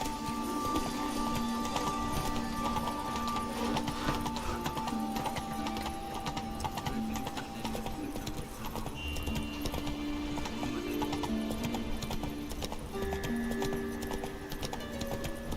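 Horse hooves clip-clop in a steady, continuous galloping rhythm in The Witcher 3 video game, loud and constant alongside game ambience and a faint tone.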